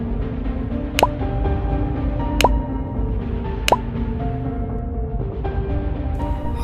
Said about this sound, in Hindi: खून की बूंदें टपकने की आवाज़ आती है